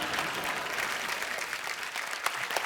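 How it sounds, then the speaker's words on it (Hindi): Studio audience applause on a comedy show, a dense, steady wash of clapping that fills the whole stretch at moderate volume with no talk over it. "एक बार जोरदार तालियां।"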